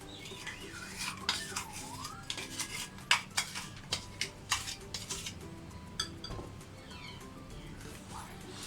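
A spoon mixes semolina tea cake batter in a bowl, giving a run of roughly a dozen distinct clinks and scrapes against the bowl in an irregular rhythm, close and fairly clear.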